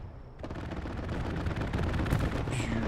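Rapid machine-gun strafing in a World War II strategy game, a loud sustained burst of rattling shots after a brief quiet lead-in, ending with a fading whistle.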